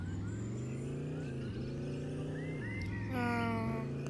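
A vehicle driven in the video game Dude Theft Wars, its steady, close engine drone holding throughout and sliding up and down in pitch as it speeds up and eases off.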